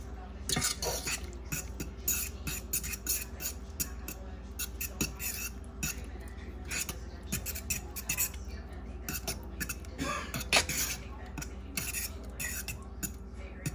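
Seafood boil sauce with Worcestershire being stirred in a pot, a steady stream of soft scraping and clinking of utensil against metal, fairly close, with no talking.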